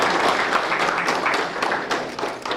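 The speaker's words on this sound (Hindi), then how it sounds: "जोरदार तालियां।" Steady, dense applause from a large audience at a National Voters Day ceremony in Simdega, Jharkhand, close and loud, sustained with no pauses.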